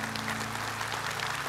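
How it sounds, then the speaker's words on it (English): A church congregation claps together in praise during a Sunday service, a steady dense wash of applause that fills the whole short moment without any talk over it. "would you give God a big hand clap of praise if you believe that?"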